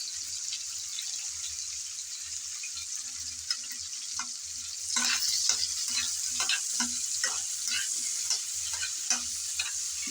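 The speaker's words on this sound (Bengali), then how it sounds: "আমিও তাই হালকা করে ভেজে নেব।" Steady close sizzling of prawns frying lightly in hot oil, with crackling growing busier and louder midway through, no voices.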